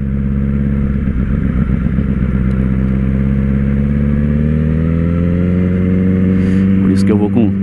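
A Honda CBR 1000RR Fireblade sports bike engine climbs steadily in pitch as it accelerates, loud and close, with someone talking over it.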